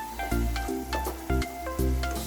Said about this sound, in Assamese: আদা নহৰু কেঁচা গোন্ধটো নোযোৱালৈকে অলপ দেৰি ভাজি ল'ম।